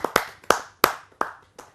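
Sparse, distinct handclaps sound at a kavi sammelan as a poet is welcomed, five or six sharp claps spaced in an uneven rhythm, close and clear with quick decay and no talk.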